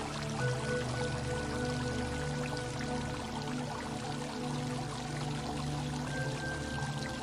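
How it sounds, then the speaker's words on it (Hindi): Steady rushing water from a fountain, a continuous even splash and pour at constant level throughout, with no voices or pauses. "ये दिव्य पानी से भरा फव्वारा बहुत अद्भुत है, बहुत कल्याणकारी है।"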